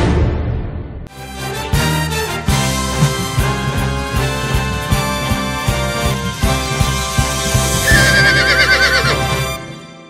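Lusitano horses at the third Lusitano horse festival in Avaré whinny loudly and repeatedly through most of the stretch, with hoof clops mixed in.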